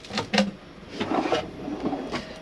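A storage drawer in an Adria camper van kitchen slides and knocks shut, giving a few short, moderately loud thumps and rattles close by, spaced irregularly over a couple of seconds without speech.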